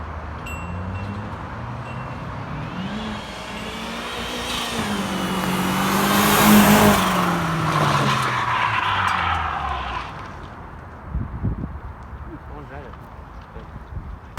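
A turbocharged Mazda Miata accelerates past, its engine rising in pitch as it approaches, peaking loud and close, then fading as it pulls away, with voices speaking over it.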